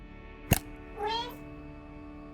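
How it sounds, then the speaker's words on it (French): A cat meows once in the video game Lost Records Bloom & Rage, a clear rising-and-falling call heard close up between two sharp game sound effects, with no talking. "Gentil chat."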